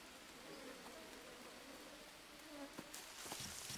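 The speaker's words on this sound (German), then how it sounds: "Nur noch dieses Summen." Bees buzz in the jungle survival video game Green Hell, a faint, steady insect drone under a hissy, rain-like ambient bed, with a few sharp ticks near the end.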